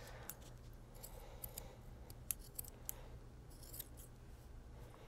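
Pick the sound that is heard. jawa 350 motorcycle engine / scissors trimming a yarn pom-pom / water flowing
scissors trimming a yarn pom-pom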